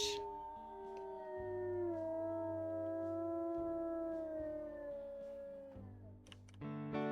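Several wolves howl together in the WolfQuest video game, long overlapping wavering howls rising and falling at close range, sustained for several seconds before fading near the end.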